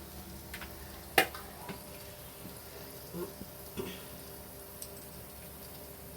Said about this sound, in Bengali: আর ওদিকে মশলাটা তো কষছি, তোমরা দেখেইছো।